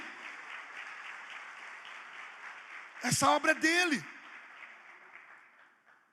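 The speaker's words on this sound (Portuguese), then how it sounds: "Você pode até aplaudir o Senhor por isso" A church congregation at a Sunday praise and worship service claps in a broad, even wash while someone speaks briefly over it; the applause then thins and fades toward the end.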